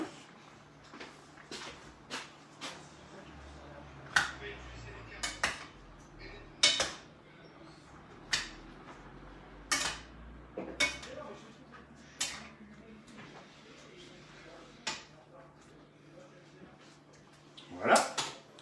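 Blanquette de veau being stirred in a cooking pot, with repeated sharp spoon clinks and scrapes against the pot at irregular intervals, fairly quiet and close.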